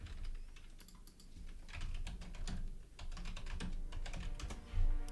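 Rapid clatter of a computer keyboard being typed on, bursts of sharp key clicks in uneven runs with brief pauses, close and fairly quiet.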